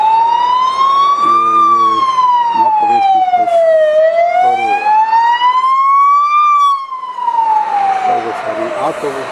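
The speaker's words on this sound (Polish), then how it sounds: "To wojskowa karetka." Military ambulance siren wailing loud and close on a Warsaw street, a rising-and-falling tone sweeping slowly up and down, with faint talk and traffic noise underneath.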